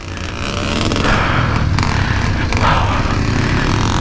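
A motorcycle riding a steep, narrow dirt trail, its engine loud and close with a steady roar that builds and holds throughout.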